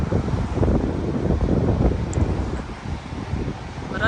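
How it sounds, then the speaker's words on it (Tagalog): Strong wind gusting after a thunderstorm, a steady loud rushing roar buffeting the microphone outdoors. "Pero, lakas ang hangin."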